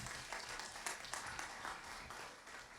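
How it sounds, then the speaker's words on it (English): An audience at a London business event gives a speaker a warm round of applause, soft and fairly distant, with scattered individual claps standing out from the steady patter. "A warm round of applause for Paul."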